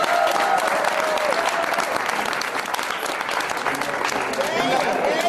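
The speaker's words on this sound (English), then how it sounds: "Each name, I want you to clap your hand for them." An audience at the launch of an African Diaspora History library claps steadily for names being honoured, a dense, loud, continuous wash of applause with voices mixed in.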